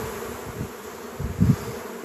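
Honey bees buzz close by during queen rearing in a Mini Plus hive, a low steady hum with a couple of louder swells as bees pass near.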